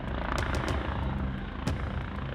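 A police helicopter flies overhead during a ground operation with patrol cars and off-road motorbikes, its steady rotor thrum loud and continuous throughout.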